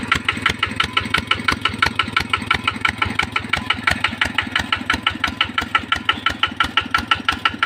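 A small RT110 diesel engine with a standard injector chugs steadily nearby while pumping water, a fast, regular knocking pulse, running alone without any voices.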